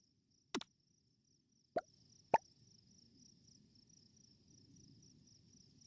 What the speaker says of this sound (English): can you guys even hear the crickets?